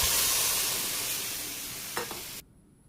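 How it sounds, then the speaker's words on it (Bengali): Soaked dal and daliya are stirred and fried in a pan, giving a bright, loud sizzle with scraping strokes that fades gradually before cutting off abruptly near the end. "ভেজা ডালিয়াটা দেওয়ার পরে কিছুক্ষণ নাড়াচাড়া করে ভাজা ভাজা হয়ে গেলে জল দিয়ে দেব।"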